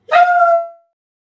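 One sharp bark from a dog at close range, loud and clear, ending quickly and followed by silence.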